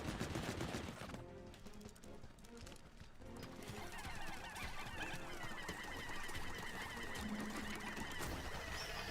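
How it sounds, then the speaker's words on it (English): A spider enemy in Pikmin 4 fires repeated shots at plates in a dense game scene, a busy run of sharp popping bursts mixed with constant background music and effects. "This spider comes, just starts shooting all my plates."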